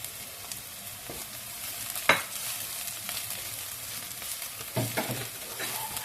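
Chili goes into a hot stir-fry pan for a Thai-style dish, raising a steady close sizzle broken by a sharp clatter and a few spatula scrapes and knocks as it is stirred.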